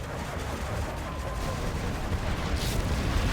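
A GLA mirror match in C&C Generators unleashes a Scud Storm missile strike, a continuous rumbling barrage of booming blasts and crackling impacts, with one brighter burst near the end.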